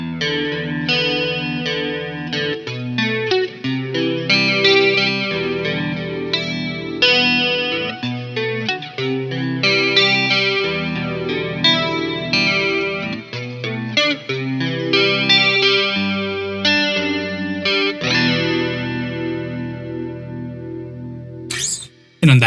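Electric guitar played with a thin pick through an AmpliTube 5 clean 80s chorus tone rings out in shimmering, wavering arpeggiated chords and melody, sustained and close, with no speech.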